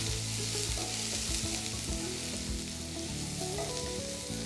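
A medium-sized onion sizzles steadily in a hot pan as it sautés until soft, with a constant, close frying crackle and occasional stirring, with no voices.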